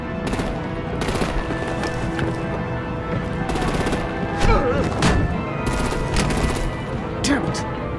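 Gunfire rattles through a Batman: The Enemy Within game scene as artillery opens up on vehicles, with dense bursts of shots and a few louder booms layered over steady background game sound.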